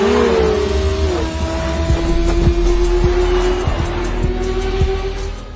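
Yamaha R1 motorcycles race in a film scene, engines screaming at high revs with a long sustained whine and sharp bursts underneath, loud and close throughout.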